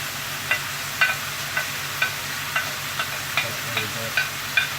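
Steady sizzling of onions and peppers frying for jambalaya, punctuated by rhythmic spoon scrapes against the pan roughly every half second, close-up with no talking.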